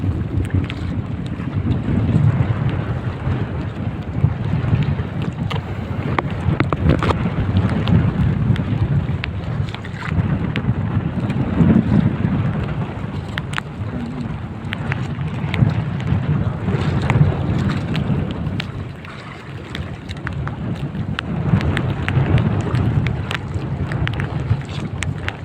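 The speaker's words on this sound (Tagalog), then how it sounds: "malakas yung hangin" Strong wind at sea roars across a small fishing boat, buffeting the microphone in a continuous rough rush, with a low rumble of the hull and water underneath for the whole stretch.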